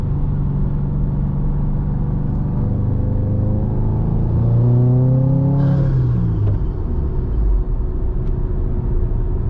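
A 2022 Subaru WRX, tuned and running 93 octane, pulls hard in third gear: a loud, close engine note climbs steadily for several seconds, then drops sharply at the shift and settles back to a steady cruising rumble.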